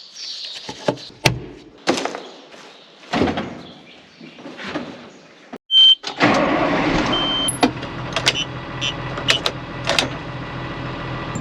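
Loader engine starting and then running with a steady, rough mechanical rumble, preceded by scattered clunks and knocks, heard close and continuous through the second half.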